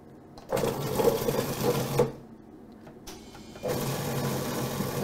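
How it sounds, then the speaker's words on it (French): A food processor blends goat cheese with fresh parsley in two motor runs, a steady whirring burst, a pause, then a second burst, close and loud. "Donc là, c'est bon, on va mixer."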